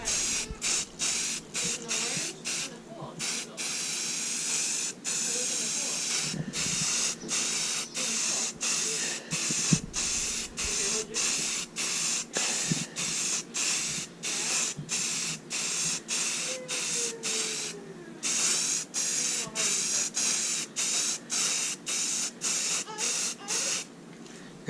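A spray can lays self-etching primer onto a boat hull in rapid pulsed bursts, a close steady hiss broken by short gaps and repeated throughout.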